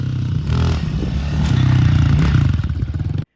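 A 2021 Honda CRF125FB dirt bike rides along a trail, its small single engine buzzing close and loud with shifting revs and rattling clatter before stopping abruptly.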